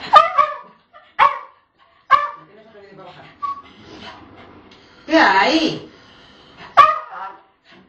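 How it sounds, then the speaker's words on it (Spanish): A dog barks in several sharp, loud bursts spaced a second or so apart, mixed with whimpers, while a person talks nearby. "El perro que le ladra."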